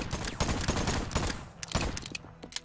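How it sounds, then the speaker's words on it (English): Rapid bursts of gunfire from the Voidtrain video game, in a land area overrun by demons, crack out in dense, loud clusters for the whole stretch, one volley tumbling over the next with only brief gaps. "Are you guys hip firing or aiming?"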